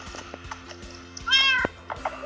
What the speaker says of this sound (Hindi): बिल्ली, ये देखो हमारी एक पेट बिल्ली भी है